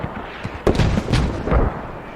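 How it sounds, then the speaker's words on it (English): Mortar rounds landing in the Squad video game, several dull, muffled booms rolling into one another over a low rumbling background, distant rather than close, with no one talking. "So they're just trying to mortar the hab for some reason."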